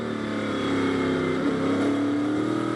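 A race car engine pulls hard in a steady, high-pitched drone, its tone climbing gradually as it runs up through the gears, loud and close throughout without speech.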